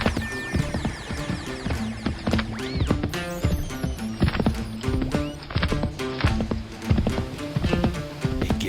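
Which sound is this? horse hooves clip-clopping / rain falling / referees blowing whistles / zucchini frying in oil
horse hooves clip-clopping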